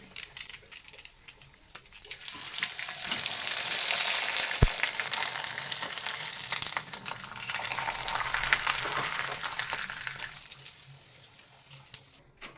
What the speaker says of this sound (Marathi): इथे मी तुम्हाला पाच सहा पापड्या तळून दाखवल्या आहेत